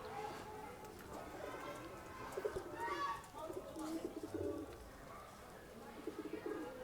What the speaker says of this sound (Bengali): পায়রা রয়েছে